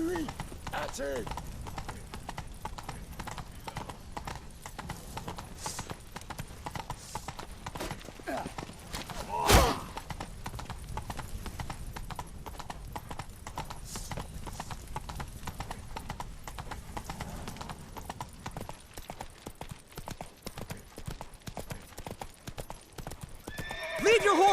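Galloping horse hooves in The Witcher III, a continuous fast clatter of hoofbeats running throughout, with neighing and shouted voices in the mix.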